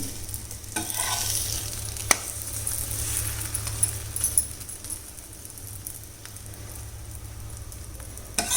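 An aloo paratha fries in oil in a pan, with a steady close sizzle and bubbling, plus a few sharp metallic clinks from the utensil.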